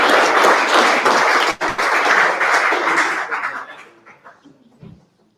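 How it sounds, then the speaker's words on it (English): An audience at the Ellie Bowman Memorial awards ceremony applauds loudly and densely for about three seconds, a few whoops and chuckles mixed in, before the clapping thins out and trails off into scattered claps and near silence. "give them a round of applause"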